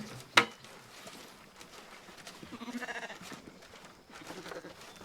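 Sheep bleat at a moderate distance in a barnyard at a feed trough, a couple of wavering calls rising over a soft rustling background, with one sharp clatter near the start.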